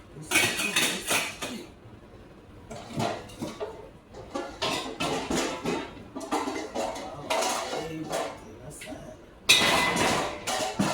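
A metal pot and dishes clatter in a home kitchen, with bursts of clinking and knocking separated by brief pauses, close and loud, ending in a sharper clang.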